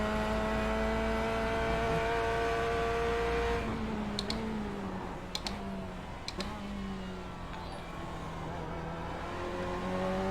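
A Chevrolet Corvette C8 race car engine in the iRacing sim drones loudly and steadily, its pitch dipping once partway through, then rising again under accelerator input, with a few faint ticks in the middle.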